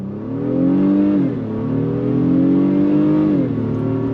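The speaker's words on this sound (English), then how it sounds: "we're gonna do another on throttle from a dead stop. On throttle, here we go." A 2023 Honda Pilot Trailsport with a 10-speed transmission accelerates at full throttle from a standstill, its engine climbing loudly through revs with brief dips at each upshift, heard close and steady with no talk.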